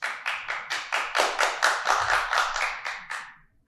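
Hands clap loudly and quickly during an interview, about a dozen sharp, even claps in a steady rhythm that speed along and then stop, with no talking over them.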